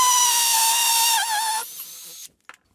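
A power drill whines steadily while boring a hole in a wall for a plug, dipping in pitch under load before winding down and stopping, followed by a brief knock.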